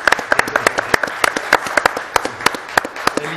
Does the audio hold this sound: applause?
yes